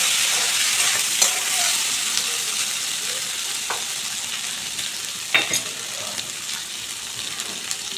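Ginger paste cooking in a hot pan for a thin Bata fish curry with ridge gourd and potato: a steady sizzle and frying hiss, broken by occasional scraping taps of a spatula as it is stirred, with no talking.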